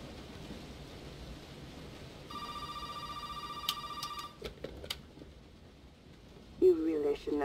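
A telephone rings in the video game Resident Evil 7, a steady electronic bell tone starting midway and sounding a few times over a low, hissy ambient background before a voice comes in at the end.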